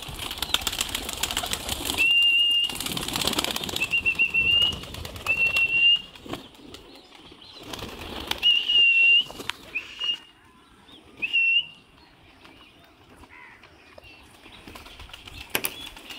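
Pigeons flutter and flap their wings in bursts, with high chirpy calls and rustling, up close, then quieter stretches between.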